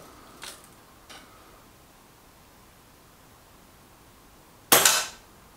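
Air rifle shots from a Reximex Pretensis: two faint, brief cracks early on, then after a quiet pause one loud, sharp report near the end, with no talking.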